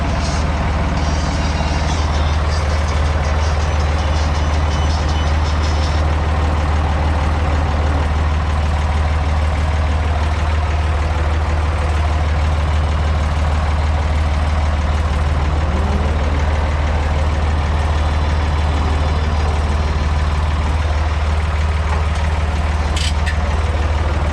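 A heavy diesel tractor engine idles steadily at close range, a deep continuous rumble with a faint hiss above it and no speech.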